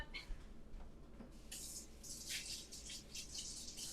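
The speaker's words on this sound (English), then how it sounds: "Let me just go run this under the sink real quick." A sink faucet runs water in a steady hiss that swells partway through, close and alone.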